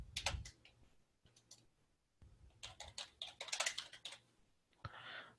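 Keys on a computer keyboard clatter in quick, uneven bursts of clicks with short pauses between, close and fairly quiet, as someone types a street name into an accounting program's address search.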